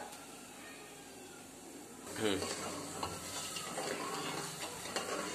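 Sugar syrup being stirred in a pot on a gas stove makes a faint, soft bubbling sizzle with scraping stir strokes; a quiet kitchen background carries a few light utensil sounds.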